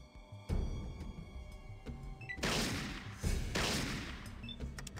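Gunfire rips into a character in the video game Fallout, with heavy repeated bursts of shots and thuds rolling one after another, loud and close, with brief lulls between volleys.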